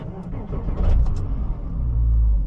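A Porsche Cayman engine idling and revving from inside the cabin, a loud low rumble that rises and settles over a couple of seconds, with faint clicks.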